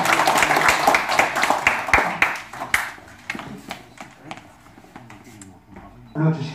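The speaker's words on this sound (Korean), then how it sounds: "회원님은 큰 박수 부탁드리겠습니다" An audience at a Lions Club district governor's official visit in Goheung applauding, a burst of close, loud clapping that thins out into scattered claps.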